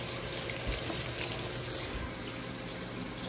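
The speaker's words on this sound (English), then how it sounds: "let me wash my hands." Hands washed under a running kitchen tap while cooking, a steady close splash and rush of water with no pauses and no voices.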